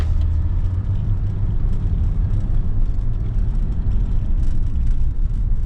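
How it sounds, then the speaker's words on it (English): A BMW E46 engine hums and rumbles steadily from inside the moving car, a constant low drone with road whir and no voices. "Car's actually running pretty good right now."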